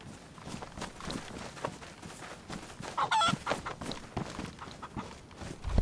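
A chicken clucks in the DayZ survival video game, mixed with footsteps and other in-game noise, moderately loud and busy throughout.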